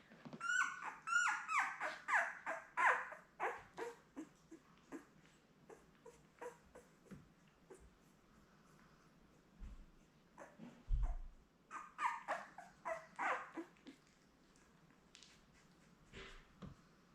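Ten-day-old Labrador puppies whimper and squeak in high, thin bursts, with quiet pauses and a couple of soft low thumps between the clusters of cries.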